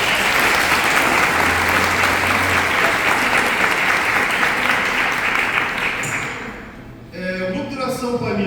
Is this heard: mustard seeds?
no